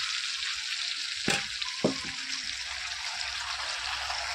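Pointed gourd (potol) sizzles in hot oil in a frying pan, a steady hiss broken by a sharp clatter and a second knock as pieces are added.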